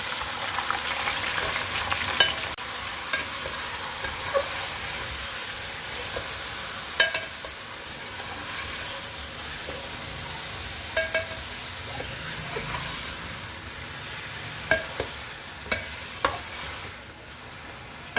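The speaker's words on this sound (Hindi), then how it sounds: "इसको 5 मिनट अच्छे तरीके से हमने भूनना चिकन को।" Chicken pieces, about one and a half kilos, fry in a pan for nihari, giving a steady close sizzle with repeated clinks and scrapes of a spoon stirring through the meat.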